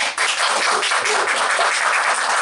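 Applause for a guest fills the room, a dense, even patter of many hands clapping at moderate loudness throughout, with no voices over it.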